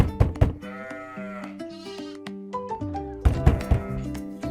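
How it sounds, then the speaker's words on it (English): A farm sheep bleats in several short, wavering cries, loud and close, over a bright stepped musical backing with no talking. "I hear a sheep."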